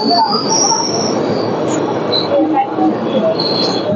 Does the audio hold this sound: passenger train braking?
yes